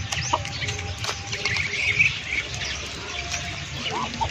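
Chickens cluck and chirp in a busy flock nearby as they eat banana leaves, with scattered pecking taps and a low ambient hum.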